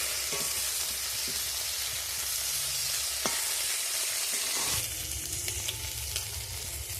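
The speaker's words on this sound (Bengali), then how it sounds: "চিংড়ি মাছগুলো কিন্তু বেশি ভাজবো না, বেশি ভাজলে চিংড়ি মাছ খেতে ভালো লাগে না, হালকা করে ভাজবো।" Shrimp fry lightly in a pan, a close, steady crackling sizzle with a few sharp pops and a clatter as the pieces are turned partway through. No voices are heard.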